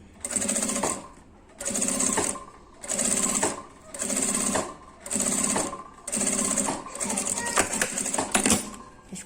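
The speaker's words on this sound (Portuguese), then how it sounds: "E passa a costura." A sewing machine stitching fabric for an essential-oil holder pouch, running in steady rhythmic bursts of about a second each with short pauses between, close and clear.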